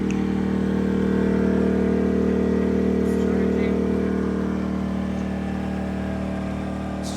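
A gasoline inverter generator ramped up to higher RPM, a steady mid-pitched engine hum with a strong tonal drone that eases slightly toward the end, with faint background sounds.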